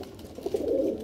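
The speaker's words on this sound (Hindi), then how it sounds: "वो देखें सही भाई के सही कबूतर उड़ते हैं" Pigeons at a loft give a short, soft cooing phrase that rises in the middle, close by and alone with no talk.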